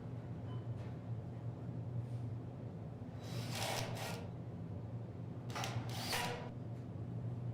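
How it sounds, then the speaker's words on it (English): Power screwdriver driving screws through steel studs into a steel track while installing a fire-rated steel door frame, with two short whirring bursts over a steady background hum. "begin screwing the studs to the track at the bottom, installing screws on each side of the stud."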